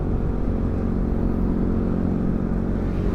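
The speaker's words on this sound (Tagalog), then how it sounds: "Pero ang bigat ng hatak ng motor natin" Steady motorcycle engine drone while riding on a road trip, a constant low hum with wind rush and no speech.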